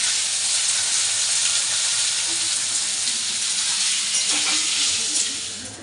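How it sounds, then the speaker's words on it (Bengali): Potatoes fry in a pan with a loud, continuous hiss and sizzle, close by and fairly even, with faint scraping and clinks near the end as the sound fades slightly. "মা তো ওদিকে আলু ভাজা করছে"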